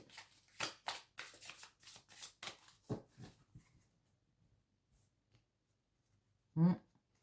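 A deck of tarot cards being cut and shuffled, a quick run of close, crisp riffling flicks for a few seconds, then near silence ending in a single soft thump.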